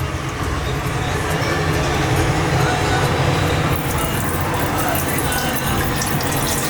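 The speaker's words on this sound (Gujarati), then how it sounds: "બધું પાણી આમાંથી આપણે નિતારી લેવાનું છે." Steady rushing of water running and draining from butter being washed for homemade ghee, loud and continuous throughout with no pauses.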